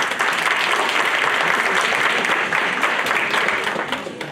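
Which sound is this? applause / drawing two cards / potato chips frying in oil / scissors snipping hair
applause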